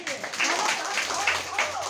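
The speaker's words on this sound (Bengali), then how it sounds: "জোরে জোরে হাততালি ওর জন্যে" A crowd claps for a child who has just recited a poem, producing a steady wash of applause with voices talking over it.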